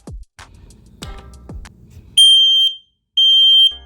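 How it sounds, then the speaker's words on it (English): X-Sense XS01-WT Wi-Fi smoke alarm emitting two loud, piercing high-pitched beeps, each about half a second long, preceded by a few handling clicks and taps. "let's see how this Wi-Fi smoke alarm sounds."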